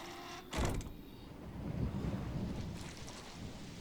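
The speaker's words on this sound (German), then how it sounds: "Achso, der Wind." Stormy wind in Resident Evil 7, a sudden loud gust or rumble up close followed by a continuous low roaring blow with rain-like hiss, steady and unbroken with no talking.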